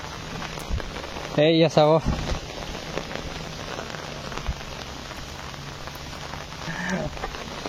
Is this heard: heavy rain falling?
yes